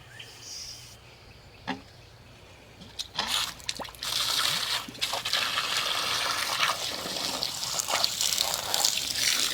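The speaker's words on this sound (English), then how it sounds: "We have water spraying out." Water spraying steadily from a repaired garden hose attached to an outdoor faucet, starting with a few brief splashes before settling into a continuous close hiss of spray that runs to the end.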